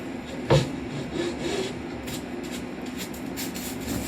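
Wood being hand sanded on a wooden desk with a gentle touch, a soft steady rasping rub throughout, close and moderately quiet, with one brief louder scrape near the start.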